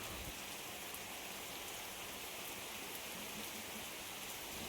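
Heavy, continuous rain pours down steadily without a break, a dense, even roar of water hitting surfaces close by, with no voices over it.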